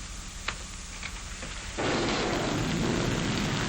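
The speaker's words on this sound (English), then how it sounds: "The rain that's falling down" Rain falls steadily, then a heavy roll of thunder breaks in and merges into a loud, sustained downpour roar; no one speaks.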